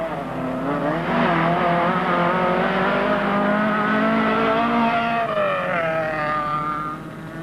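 A Class C rally car slides through a tricky 10.5-kilometre stage in Swaziland in 1985, its engine loud and strained with rising, falling revs through the slide, fading slightly at the end.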